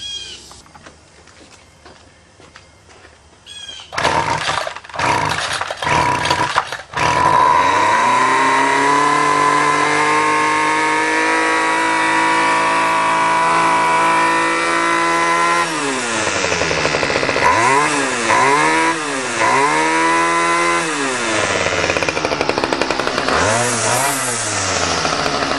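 A two-stroke weed eater engine pulls over a few times, catches, then runs loudly and steadily close by, with several sharp throttle revs rising and falling near the end.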